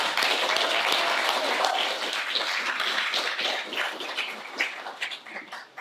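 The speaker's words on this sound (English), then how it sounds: "So please join me in a round of applause for them." Conference audience applauding: a dense, even patter of many hands clapping at moderate distance, holding steady before thinning and trailing off toward the end.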